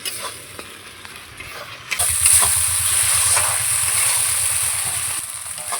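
Spice paste with a splash of water frying in oil for a prawn and pointed gourd curry: a soft hiss that jumps to a steady, loud sizzle partway through and keeps bubbling close by.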